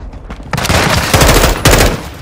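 Rapid automatic gunfire in Call of Duty: Modern Warfare II, a loud close burst of dense shots that briefly pauses and resumes, with no speech over it.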